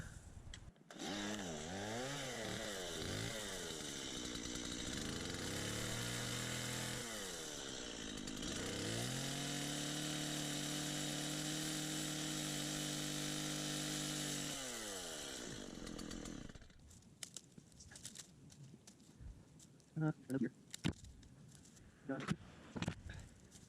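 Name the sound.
chainsaw cutting a dead rose bush branch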